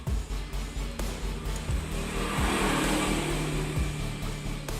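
Honda Beat motorcycle with a PE 24 carburetor, engine cold, cranking and catching, then running in a steady, fairly loud idle with rhythmic pulsing throughout.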